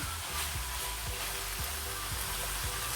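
Minced meat (keema) sizzles and crackles steadily in a pan with no added oil, roasting in its own fat, a close, continuous frying hiss with faint rhythmic stirring underneath.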